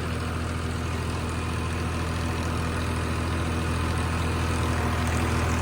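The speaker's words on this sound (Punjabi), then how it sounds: "ਪਹਿਲੇ ਗੇਅਰ ਵਿੱਚ 1800 ਆਰਪੀਐਮ ਆਰਾਮ ਨਾਲ ਚੱਲ ਰਿਹਾ ਟਰੈਕਟਰ" A tractor engine runs steadily in first gear at about 1800 rpm, a constant low rumble with an even hum throughout and no voices.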